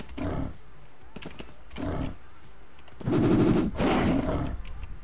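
Bursts of rapid video-game gunfire from a fight between Electric Wolf and Poison characters, loud and close, coming in short volleys with brief pauses and a heavier sustained burst near the end.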